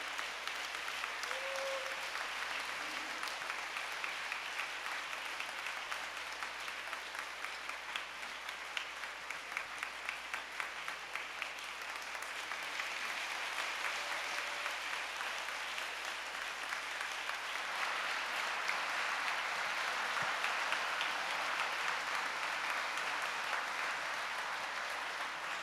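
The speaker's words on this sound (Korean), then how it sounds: "우리 큰 박수로 루온 에이브람 라오스 LCLC 의장님을 단상으로 모시겠습니다" A large congregation at a revival meeting of an American clergy association applauds to welcome a speaker to the stage, a dense, even wash of clapping that holds steady and swells slightly toward the end, with no talking.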